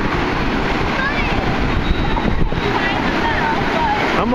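Strong wind blows at the beach with a constant, loud rushing roar and microphone buffeting that stays steady throughout, with faint surf underneath.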